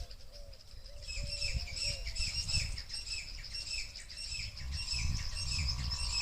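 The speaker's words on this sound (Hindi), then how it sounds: "चिड़िया की आवाज़ आ रही होगी आपको।" Several small birds chirp and tweet in quick, repeated phrases, fairly close and steady throughout, with a faint low rumble beneath and no talking.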